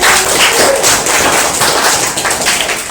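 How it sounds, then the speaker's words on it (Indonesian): Classroom clapping from students after a group presents its discussion results, a dense steady patter of many hands at close range throughout, with no speech over it. "Tepuk tangan untuk teman kita."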